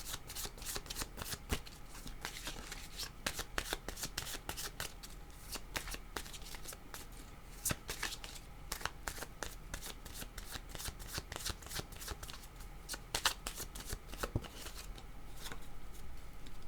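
Tarot cards are shuffled continuously and close by, making a dense, papery riffling with sharp flicks at irregular moments and no pause.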